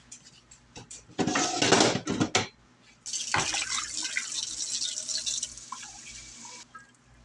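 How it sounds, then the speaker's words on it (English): Water poured into a pot of homemade tomato soup, a short splashing pour followed by a longer steady stream of liquid, close by, with no talking over it. "Then I'm going to add some water."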